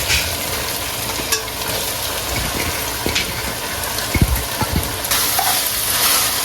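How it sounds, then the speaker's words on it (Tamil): Onions with ginger garlic paste and a pinch of salt fry in a pan with a lively sizzle, broken by the scrape and clatter of stirring, close and loud. "இஞ்சி பூண்டு பேஸ்ட்டு. வெங்காயம் வதங்கிறதுக்கு கொஞ்சம் உப்பு போட்டுக்கிறேன்."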